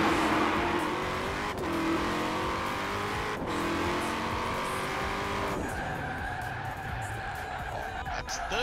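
A Ford GT40 MKI racing engine in Forza Horizon 4 roars at high speed with a loud, sustained drone, rising in pitch and dropping at each gear change, accompanied by tyre noise.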